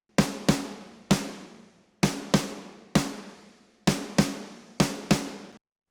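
Layered snare drum samples with room and reverb layers hit together in a steady groove: eleven sharp, punchy strikes, each trailing into a short decaying reverb tail, loud and clear, with no talking.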